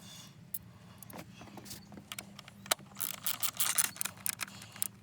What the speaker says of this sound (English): The ratchet here.